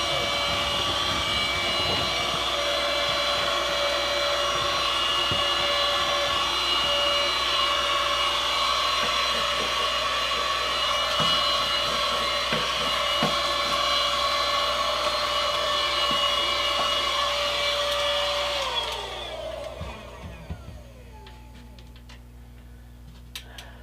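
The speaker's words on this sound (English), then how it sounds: "Grab the vacuum cleaner again." A vacuum cleaner runs with a steady, loud whine and hum during scenic backdrop work, then winds down and stops near the end, leaving quiet clicks.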